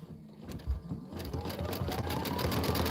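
Stellar embroidery machine stitching a winter penguin and pine tree design, a dense rapid needle chatter that starts unevenly and settles into a steady, close, continuous run.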